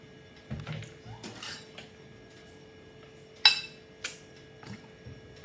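Ceramic bowls and dishes clink and knock as one bowl is lifted out from among them in a home kitchen, a few sharp, close clatters spread apart over a quiet background.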